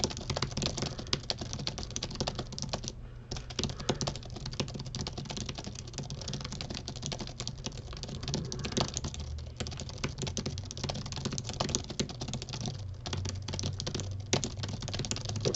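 Fast, continuous typing on a computer keyboard during a speed typing contest, a dense, even patter of key clicks with a couple of brief pauses, close and alone.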